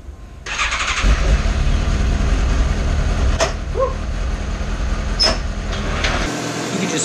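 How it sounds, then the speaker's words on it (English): A Suzuki GSX-S750 motorcycle fires up and settles into a loud, steady idle to warm up, with a couple of sharp clicks along the way before the engine cuts off near the end. "I'm gonna start it now, let it warm up"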